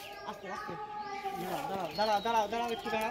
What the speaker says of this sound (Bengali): এই যে আর একটা পায়রা এসছে, এটাও এসছে বন্ধুরা।